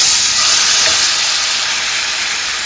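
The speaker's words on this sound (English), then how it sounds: "I'm gonna add some oil to the pot. About a tablespoon. Add the salmon." Salmon fillet frying skin side down in hot oil and butter in a pot over high heat, giving a loud, dense, continuous sizzle and hiss with no voices.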